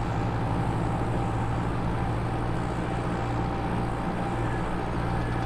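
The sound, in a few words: Valtra tractor engine accelerating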